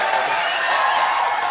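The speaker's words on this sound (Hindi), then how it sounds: "जोरदार तालियां अनूप जी के लिए।" A studio audience on a comedy talk show gives a steady wash of applause and cheering, dense and loud without a break.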